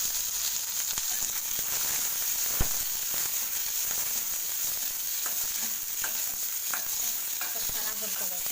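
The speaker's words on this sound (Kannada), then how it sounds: "ಸ್ವಲ್ಪ ಚೆನ್ನಾಗಿ ಹುರ್ಕೋಬೇಕು" Two tomatoes frying with spices and onion in a pan, giving a steady close sizzle with scattered stirring clicks and scrapes throughout.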